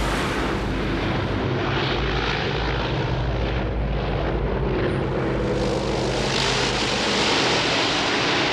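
A propeller aircraft passes low overhead during a firefighting operation, its loud, continuous engine roar filling the whole stretch with no voices.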